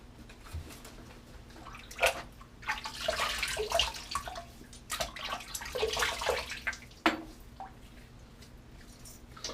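Water splashed onto a face from running tap water before a first shave with a double-edge razor, close wet splashing and rubbing in bursts over a faint steady hum, no talking.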